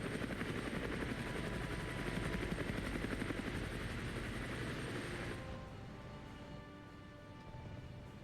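A Mi-24 helicopter in the military strategy game Armoured Brigade gives off a loud, continuous rotor and engine drone that holds steady, then thins and drops back slightly toward the end.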